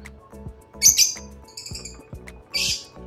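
A hen in a backyard coop calls out in a few short squawking chirps over a steady, rhythmic low knocking pulse, with the bird fairly close.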